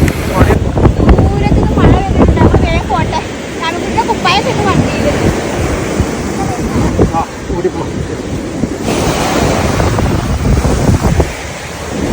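Loud surf washes in and out at Miyal beach in Kerala, with rain and heavy wind buffeting the microphone, continuous and close.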